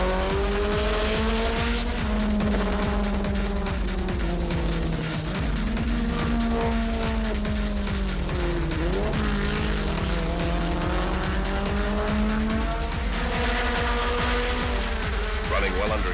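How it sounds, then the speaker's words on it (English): Alfa and BMW race cars roar past at full throttle with engines wailing up and down through gear changes and tires squealing through the curves, a continuous loud racing din. "Outgunned on the longer straights, Morton carved into Queck's slender advantage on every curve"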